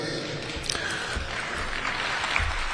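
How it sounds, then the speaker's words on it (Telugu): Audience applause at a Telugu political speech: a steady, dense wash of many hands clapping, moderately loud and unbroken for the whole stretch, with no voice over it. "దానికోసం చప్పట్లు కొట్టడానికి చెప్పలా"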